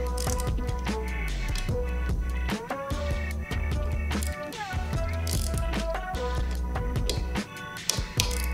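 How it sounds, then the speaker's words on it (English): Stem bolts on the handlebars of a Dolan TDT tandem track bike are tightened with a tool that gives quick, rhythmic ratcheting clicks, close and fairly loud, in a steady run of short turns. "with stem bolts, it's important just to do one rotation in each screw"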